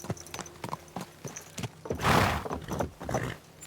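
Horse in the Kingdom Come Deliverance 2 video game, with close, crisp hoof clops on hard ground stepping irregularly, then a loud drawn-out whinny followed by more restless hoof steps.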